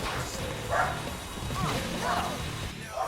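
Dogs bark and yip indoors after a doorbell rings, with several short bursts spread across a few seconds at moderate distance and faint voices in the background.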